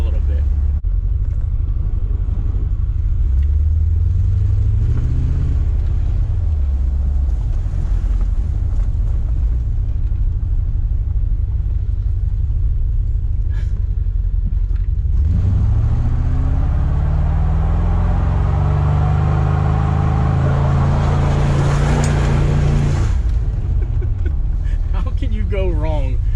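A $300 Corvette engine roars and revs hard during a big smoky burnout, loud and close, with heavy wind buffeting, the pitch rising and falling as the throttle swells.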